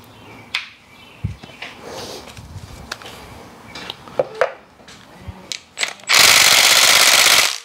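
An M8 bolt comes out of a 2002–2006 Honda CR-V six-speed transmission. Scattered metallic clinks and taps lead up to a loud, sustained, rattling mechanical burst near the end, close by.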